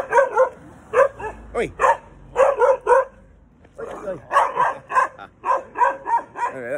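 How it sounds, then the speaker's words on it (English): Dogs barking repeatedly in Bali, a string of sharp close barks with yips and a whimper, loud and continuous, while someone speaks briefly between them. "God, I'm getting attacked now by the dogs."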